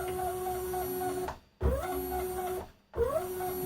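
Stepper motors drive an axis of a small precision CNC mill, drill and engraver under manual control, a steady whining hum in three runs, with two brief silent stops as the direction reverses.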